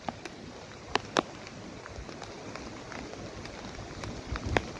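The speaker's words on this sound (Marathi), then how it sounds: "पाऊस पडत आहे, वातावरणामध्ये धुकं पसरलेलं आहे आणि हे डोंगर भाग आहे." Rain falls steadily in misty hills of the Konkan region, a faint, even hiss with scattered sharper drops, heard from a distance without any talk.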